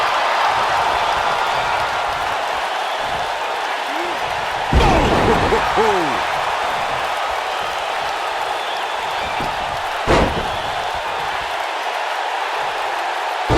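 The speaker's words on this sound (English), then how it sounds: "Ooh, what impact. Scoop slam." A scoop slam lands on the wrestling ring during an Extreme Rules match. A loud arena crowd roars throughout, and two sharp impact thuds cut through it about five seconds apart.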